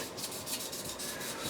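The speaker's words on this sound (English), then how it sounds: "Now these are the micro mesh sanding cloths." Micro mesh sanding cloth rubbing across a 1966 Revell Ford Mustang model car body during wet sanding, a steady close raspy scrubbing with rhythmic back-and-forth strokes heard alone.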